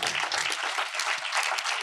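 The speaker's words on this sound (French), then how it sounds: "On peut applaudir." Audience applause at an awards ceremony for top advertisers, a dense, steady wash of many hands clapping at moderate distance throughout.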